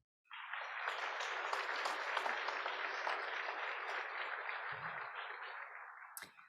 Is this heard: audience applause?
yes